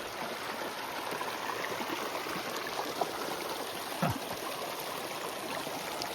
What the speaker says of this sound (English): A running creek.